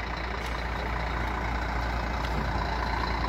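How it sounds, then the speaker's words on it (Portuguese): A Gontijo intercity bus with a Scania K420 engine rumbles steadily at a garage in Belo Horizonte in the evening, a constant loud, broad engine drone with no voices. "Olha o ronco do ônibus, hein?"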